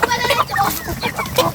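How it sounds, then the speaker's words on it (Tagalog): Native chickens cluck repeatedly in an open farmyard in San Rafael, Iriga City, with several birds close by and their busy, overlapping clucks and short calls running through the whole stretch. "mga native na manok guys"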